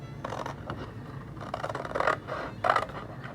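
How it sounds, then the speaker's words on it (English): Scissors snip through paper while cutting out a decoration for Easter home decor, giving a few close, crisp cuts with small rustles between them and no talking. "So you're just going to cut this out."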